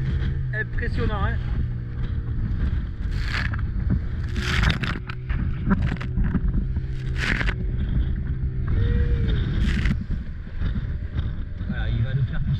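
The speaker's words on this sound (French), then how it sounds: "Il y a un courant violent avec un vent violent, vous voyez, avec la houle qui se brise sur les récifs" Strong wind buffets a boat off Cape Verde amid heavy swell and a violent current, waves breaking on reefs; a constant roar of wind noise with splashes and thumps, with voices speaking intermittently.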